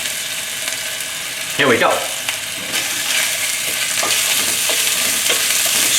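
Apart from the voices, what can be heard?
stir-frying red hot peppers in oil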